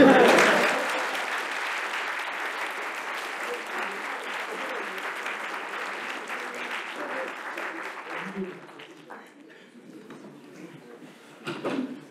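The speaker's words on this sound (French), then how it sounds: "Allez-y, applaudissez." An audience at the Taranis reveal event claps steadily in a dense burst of applause that starts strong, holds for several seconds, then thins out and fades, with a few scattered claps near the end.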